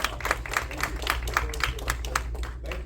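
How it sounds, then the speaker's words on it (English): A small, enthusiastic audience claps in a steady scatter of hand claps to welcome a speaker at Florida Central, with a faint low murmur beneath. "let's clap and welcome him to Florida Central"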